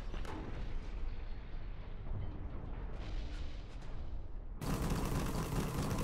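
A grenade blast in the mech combat game Hawken: a sustained, dense rumble of explosive noise gives way to a louder, broader burst of detonation near the end, with no voices over it.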